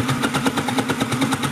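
A Sew Cool threadless kids' toy sewing machine runs close by, its fast motor giving a rapid, even mechanical rattle and hum with regular pulsing beats over a short burst, loud and alone.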